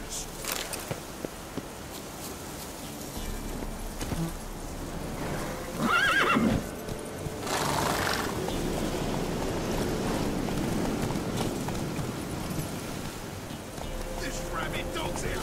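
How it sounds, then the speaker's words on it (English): Horses in a video game neigh and whinny over the clatter of galloping hooves, with game voices talking, shouting and music around them in a busy, dense scene. "Horses!"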